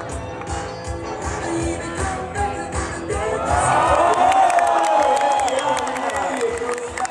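A crowd at the Adrenalin Games 2012 BMX event in Moscow claps, whoops and cheers for a rider, swelling louder midway, with an announcer talking over the noise.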